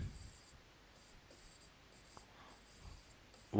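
Pen scratching on paper while a question is worked out by hand, faint and intermittent strokes with brief pauses, quiet and close, no voice.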